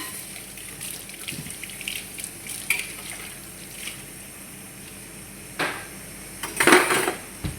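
Running tap water and the clink of dishes and utensils being washed in a sink, with intermittent splashes growing louder toward the end.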